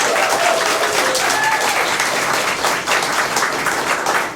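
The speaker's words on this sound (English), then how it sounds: "Give them a round of applause." A live theater audience applauds the tech team, James and Michael, at the back of the stage. The clapping is dense and steady, close and loud, and carries on without a break throughout.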